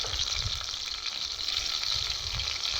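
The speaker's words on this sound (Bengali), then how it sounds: "আবার একটা কড়াইতে আবার তেল দিয়ে একটা পাঁচফোড়ন দিই" Panch phoron spices temper in hot oil in a wok, a steady bright sizzle and crackle holding at an even, moderately quiet level throughout with no voices.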